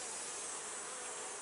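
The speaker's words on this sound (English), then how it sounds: "There's a few more bees in the air than there normally are with this hive." Honeybees fly around an open hive in a brief, faint, steady buzzing hum with no voices.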